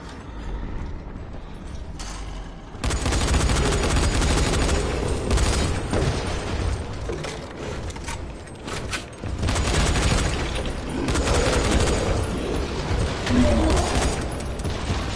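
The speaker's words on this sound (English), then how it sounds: "I find it easier with demolishers just to shoot them." Loud, close bursts of gunfire from Dying Light: The Following, aimed at hulking demolisher zombies, break over a clanking, mechanical game backdrop in rapid volleys with short gaps between them.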